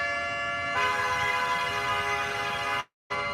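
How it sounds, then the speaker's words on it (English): A loud, steady nuclear attack warning siren blares with a rich, buzzing tone, then cuts off abruptly for a moment before starting again. "the physical trumpet is that alarm sound for those thermonuclear missiles"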